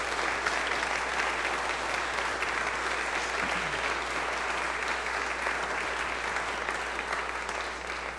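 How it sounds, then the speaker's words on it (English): Church congregation applauding veterans standing during a service, a steady, sustained round of clapping from a large crowd heard alone at moderate distance. "Can we give a big round of applause?"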